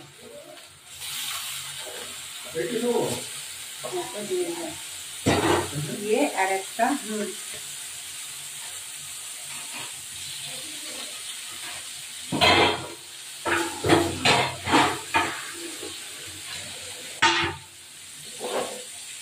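Rohu fish pieces frying in hot oil in a frying pan, a soft steady sizzle with louder bursts of crackling as pieces go in, while someone talks over it.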